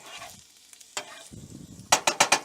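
Oil heating in a pan for a hemp seed omelette, with brief soft sizzling and a few stirring scrapes, ending in a quick run of loud, rhythmic scraping strokes.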